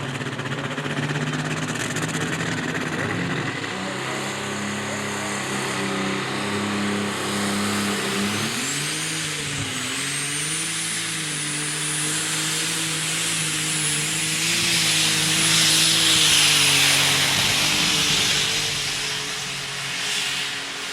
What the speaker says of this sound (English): Having some issues getting that turbo to spool up on there.